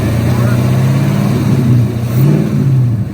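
The engine of a stock 2018-2019 Ford Mustang GT revs close and loud during an RPM test on a nitrous setup, holding a steady droning idle with small rises in pitch, while people talk over it.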